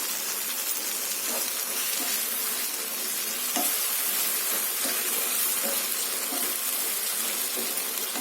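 Brinjal stir fry sizzling and frying steadily in a pan after a few spoons of water were added, a continuous hissing crackle with occasional stirring clinks, close and moderately loud with no talk.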